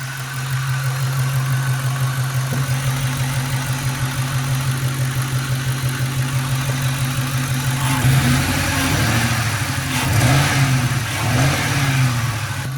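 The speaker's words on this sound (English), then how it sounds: "It's definitely a misfire, and it gets worse." A 2002 Ford Mustang GT V8 engine idles with a steady but uneven, stumbling misfire, close and loud, then revs up and wavers in pitch as the roughness grows worse; no talking.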